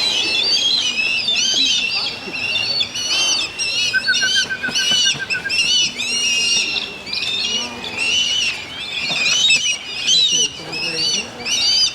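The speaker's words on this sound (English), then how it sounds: "Look at how many birds there are." Crowd of wild birds squabbling at a feeding spot at a hotel in Gambia, dense overlapping chirps, squawks and whistles, close and continuous, with a voice speaking underneath.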